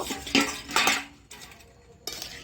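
Metal lid set onto a cooking pot of prawn and jackfruit, heard as a couple of close clinks and scrapes of cookware followed by quieter handling, with no talk.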